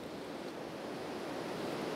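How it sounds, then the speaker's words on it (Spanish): A waterfall of cold water in a forested setting in Bosnia-Herzegovina, heard as a steady, dense rushing roar that stays even and loud throughout, with no voices. "Amiga, mira el agua como está de fría, mira la cascada."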